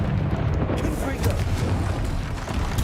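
Confringo fire spell explosions in Hogwarts Legacy, continuous loud booming blasts and rumbling impacts from repeated spellcasting in combat, dense and close with no gaps.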